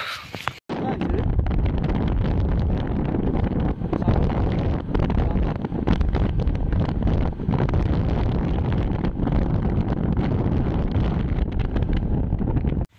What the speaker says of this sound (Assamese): পূৰা বতাহ মাৰি আছে